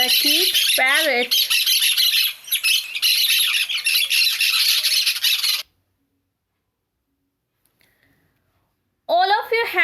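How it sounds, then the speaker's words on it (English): A parakeet gives loud, harsh, continuous squawks and chattering calls up close for several seconds, falls silent, then squawks again at the end. "Parakeet, parrot."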